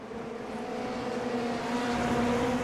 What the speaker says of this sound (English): You can hear it, he's in the limiter.